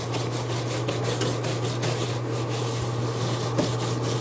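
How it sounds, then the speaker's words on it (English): A brush rubs cement steadily over a stained glass panel, giving a continuous close, loud scrubbing rasp with rhythmic strokes and a low steady hum underneath, no talking. "Then you just take a brush and then you just rub it in."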